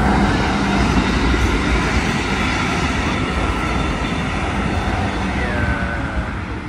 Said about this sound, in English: They got a train coming right here.